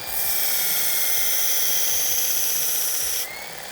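Blade bevels being reground on a flat sharpening plate, a steady loud hissing abrasive grind running continuously for about three seconds before cutting off.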